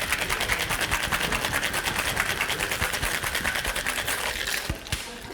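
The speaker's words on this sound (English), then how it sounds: "That's controlled shaking, is it?" A cocktail shaker full of ice is shaken hard while mixing a Blood and Sand, producing a fast, continuous rattling at an even pace that fades slightly near the end.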